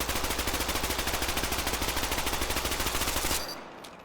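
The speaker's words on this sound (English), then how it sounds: "So here's the Tacoma. You notice there's quite a bit of horizontal recoil with it" The Tacoma gun in the shooter game Off the Grid fires a rapid, even stream of loud shots for over three seconds, then stops abruptly, leaving a brief clatter and quiet, with no talking.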